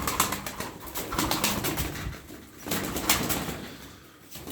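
Turkish tumbler pigeons, performance flying birds, coo and flutter close by, with bursts of wing claps and soft cooing over a continuous rustling background.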